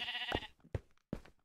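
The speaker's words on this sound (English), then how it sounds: "There's a sheep over there hanging out, looking at me funny" A Minecraft sheep bleats close by in a survival game, a nasal wavering baa followed by two shorter bleats with brief gaps between them.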